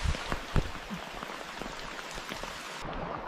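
Rain falls steadily through a green forest canopy, a soft continuous patter with a few louder close drops hitting leaves and branches early on.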